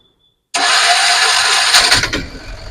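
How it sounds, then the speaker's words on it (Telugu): A Piaggio Ape auto-rickshaw engine with a fault that shoots flames from the bore cranks and catches after a half second of silence, then settles into a loud, steady running rumble with a brief revving surge near the end. "బండి స్టార్ట్ చేయండి బండి స్టార్ట్ చేయన్న"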